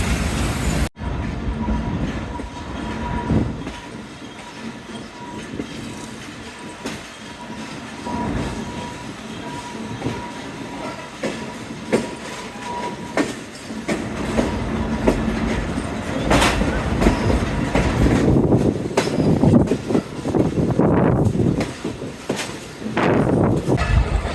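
Karachi Express hauled by locomotive ZCU36-317 runs at speed near Multan Cantt, with continuous loud rumble and clickety-clack of wheels, occasional squeals and rattling carriages building toward the end.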